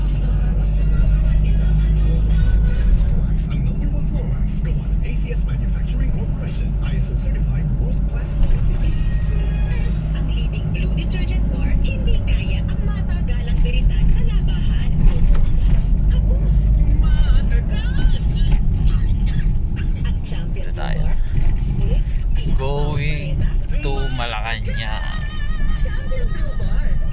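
Heavy road traffic rumbles continuously for the whole stretch, with low engine drone and passing vehicles close by, under a constant murmur of voices.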